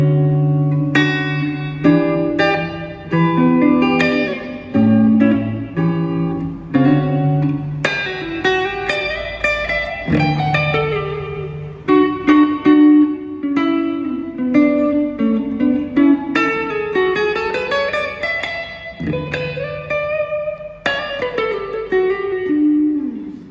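Clean electric guitar through a Marshall V8040 tube amp plays ringing chords and single notes with a warm, slightly reverberant tone, steady and fairly loud with no talking.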